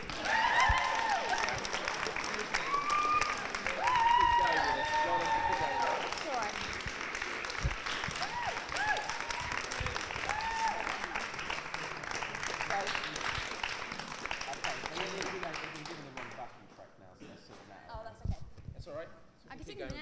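An audience at the Stickaid 2011 charity music hour applauds with sustained clapping and cheers and whoops, staying loud and dense before thinning out to scattered claps near the end.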